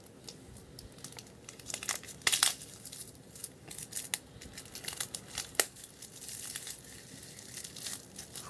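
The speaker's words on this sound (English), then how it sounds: "try to get this plastic, Apple's usual shrink wrap plastic around the box, is as tight as ever" Tight shrink-wrap plastic is peeled and torn off an iPhone 6 box, making close, quiet crinkles and sharp crackling snaps in irregular bursts.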